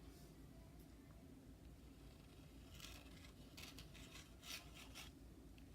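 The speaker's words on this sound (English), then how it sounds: "I'm just making scribbly marks" An ink pen scribbles on paper while art supplies are tried out, giving a faint scratchy rasping with quick bursts of strokes over a low background hum.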